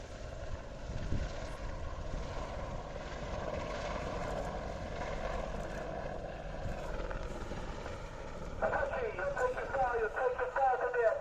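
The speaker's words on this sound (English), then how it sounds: "This gives you the opportunity to see how manoeuvrable this aircraft is in a low level environment." A Boeing Apache attack helicopter flies a low-level display at an air show, its steady rotor and engine drone carrying at a distance beneath a commentator talking over a public address system.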